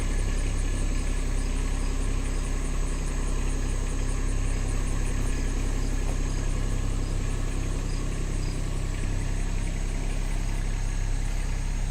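A new Kubota B2601 compact tractor's engine runs steadily at a constant idle-like pace, a dense continuous mechanical drone with a faint regular ticking, close up and unbroken with no talking.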